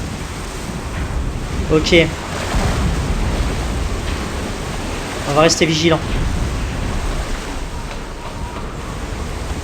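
Stormy ocean waves in the Silent Hunter 5 submarine game around the British Isles: a broad, continuous roar of surf and wind with someone speaking briefly over it twice.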